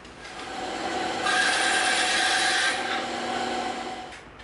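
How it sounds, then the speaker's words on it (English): Steady rasping saw or file strokes trimming excess wooden dowel from an EVA foam sentry gun prop, a continuous close scraping that swells in the middle and tapers off, with no talk. "Now we're going to take some of this dowel off."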